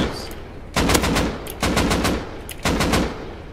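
AK rifle gunfire in the video game Rust, with three loud close bursts of rapid automatic shots spaced about a second apart and short pauses between them.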